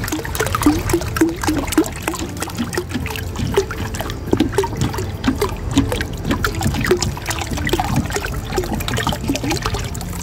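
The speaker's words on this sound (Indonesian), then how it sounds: "ini tinggal diaduk seperti ini hingga semuanya benar-benar larut" NPK fertilizer dissolving in water in a 200 litre drum is stirred by hand, making continuous sloshing, splashing and trickling water sounds with rhythmic swirls, close and fairly loud.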